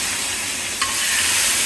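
Pakoras stirred into hot Memoni kadhi just after the tadka, giving a steady close sizzle and frying hiss with a soft stirring scrape partway through.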